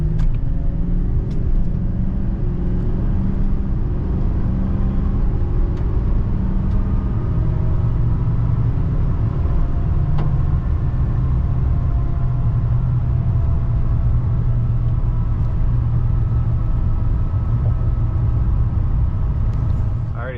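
A GMC Denali Duramax truck cruising on the highway, heard from inside the cab as a loud, steady low engine and road drone with no letup.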